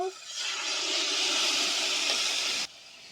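Water splashed into a hot pan of kochur loti with katla fish sets off a loud, steady hiss that rises at once, holds for over two seconds, then cuts off abruptly.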